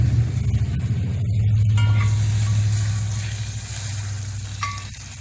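Three tablespoons of butter melting and sizzling in a small hot Dutch oven on a Big Green Egg grill, a steady close frying hiss with faint crackles throughout.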